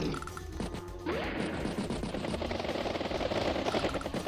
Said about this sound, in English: Neo tank takes out another regular tank